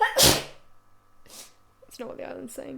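A single loud sneeze bursts out at the start, followed by people talking.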